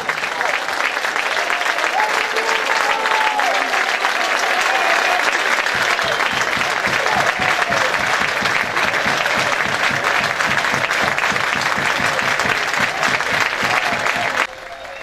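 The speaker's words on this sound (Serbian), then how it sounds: "Molimo aplauz." Stadium crowd at a Serbian top-flight football match, Sloboda against Partizan, breaking into sustained loud applause, a dense continuous roar of clapping lasting throughout before dropping slightly at the very end.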